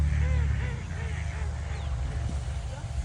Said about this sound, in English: Maybe that was a wood duck quacking